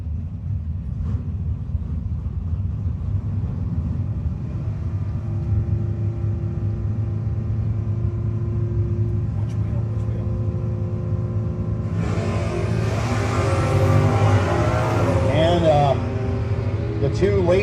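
Two late-1970s cars race in a no-box drag race. Their engines make a steady, loud rumbling drone that swells into louder revving near the end, with an announcer talking over the noise.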